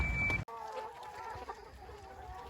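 Young pullets just delivered to a polytunnel cluck and chatter softly, several close, overlapping calls in an uneven rhythm, after a brief louder burst of noise at the start.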